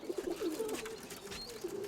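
Pigeons in a farmyard loft give soft, low cooing calls in a short series, fairly close but quiet, over faint background noise.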